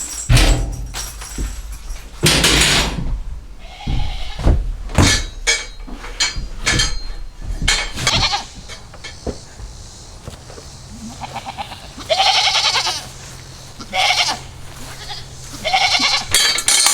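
Goats on a homestead during an outdoor grooming day, with several loud, close bleats scattered through the stretch among knocks and handling noises and no talk.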